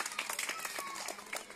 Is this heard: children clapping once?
yes